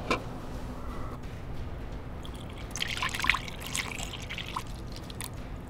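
Coolant pours into the radiator of a Chevy Impala, a soft trickling and dripping with gurgling splashes that build briefly in the middle, fairly quiet against a low background hum.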